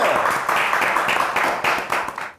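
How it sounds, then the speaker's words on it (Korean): Studio audience applauds a contestant on a Korean pork-themed cooking variety show, a dense, steady burst of many hands clapping for about two seconds before cutting off abruptly. "자, 박수 한번 주세요"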